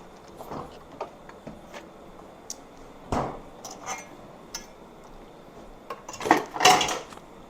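Metal pot and lid clatter in a home kitchen while curry duck cooks: scattered light clinks and taps, then a louder cluster of metallic clanks near the end, close and alone.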